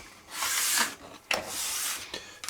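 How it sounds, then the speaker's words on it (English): Sandpaper scrubs across the flat faces of a wooden hull for a gas-powered R/C hydro boat: three close, rasping strokes in a slow rhythm, separated by short pauses. "So again, sand the faces, not the edges."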